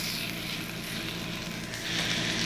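Rib eye steaks searing in a hot pan as they are turned with tongs, producing a loud, dense, unbroken sizzle that swells slightly toward the end.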